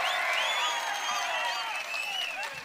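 A crowd at an outdoor political rally in Andhra Pradesh applauds and cheers, a dense wash of clapping mixed with shrill whistles and shouts, fairly distant and continuous.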